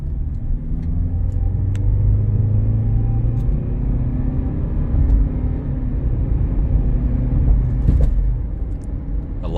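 Lexus NX 300 driving in sport mode, a steady low engine and road rumble filling the cabin from start to finish, with a faint click or two on top and no talking.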